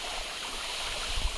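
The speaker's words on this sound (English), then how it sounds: "we are here at the waterfall, like very little waterfall" A very small waterfall pours nearby, a steady bright rushing hiss of falling water with a couple of low thumps toward the end; no talk.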